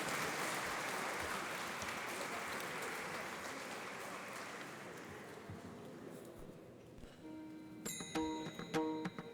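Applause for Dr. Saili at an institute's 39th foundation day celebration, a broad crowd clapping that slowly fades, giving way near the end to bright tonal music.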